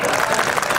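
Crowd at a political rally speech claps together, a brief burst of dense, continuous applause heard alone.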